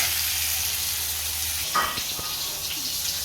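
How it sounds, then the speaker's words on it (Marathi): An onion drops into hot oil with garlic for a spinach roll curry gravy, a steady close sizzle with a brief louder burst and some stirring clatter, with no voices. "ग्रेव्ही करण्यासाठी परतून घेणार आहे तेलामध्ये अजून एक कांदा घालते"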